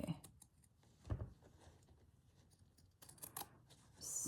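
Scissors snip through stitched embroidery fabric in a few short, close cuts, with one stronger snip standing out against quiet handling sounds.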